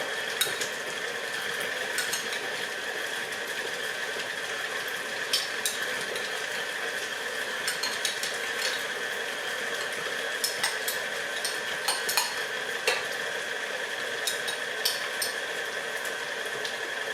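Cheese ball mixture with pineapple being stirred in a bowl, a steady soft scraping and clinking of utensil against dish with a continuous background hum, no talking.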